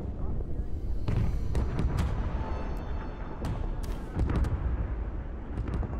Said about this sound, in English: You are throwing a grenade